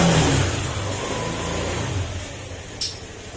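Honda Click scooter engine revving during a test after repair, a loud rev at the start that falls away into a steady idle hum, then a brief sharp burst near the end.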